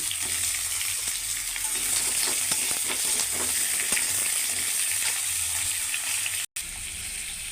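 Papaya pieces fry in a pan with a constant, close, hissing sizzle and faint bubbling, steady throughout apart from a momentary dropout near the end, with no one speaking.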